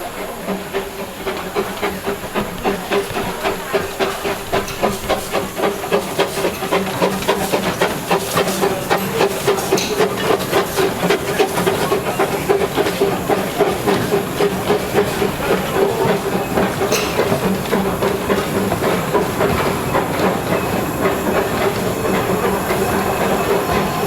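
A big steam locomotive on a 12¼ inch gauge railway at a steam gala, chuffing in a fast, steady exhaust beat with constant hiss and rail clatter, loud and close for the whole length.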